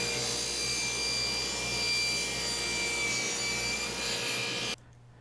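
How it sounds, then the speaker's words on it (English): A table saw with a crosscut sled cuts a wood blanket-chest bottom panel to final length, a steady loud whine and rasp of blade through wood that stops abruptly near the end. "I line that up with the kerf in the crosscut sled to cut it to the final length"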